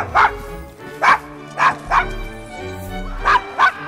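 Dog barking in the video game Assassin's Creed Syndicate, a string of sharp, close barks and yips in irregular bursts, with a faint low murmur between them.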